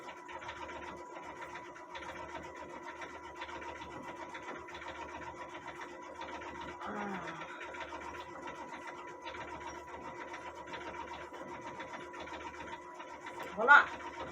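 A Brother Stellaire embroidery machine stitches an Easter egg shape on polar fleece, a faint, steady mechanical hum and rapid needle chatter running continuously with a brief louder knock near the end.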